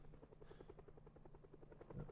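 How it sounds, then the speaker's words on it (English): A video game helicopter drones faintly in the distance, its rotor producing a steady low chopping pulse that runs unbroken and quiet throughout. "That's a helicopter."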